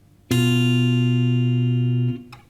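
Two sustained guitar notes ring out together, struck once and held steadily for nearly two seconds before being cut off.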